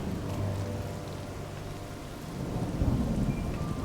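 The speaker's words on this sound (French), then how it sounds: "Par contre, il pleut par contre." Steady rain pours with rolling thunder rumbling low and loud through the whole stretch in a stormy outdoor scene from the Zelda: Tears of the Kingdom video game.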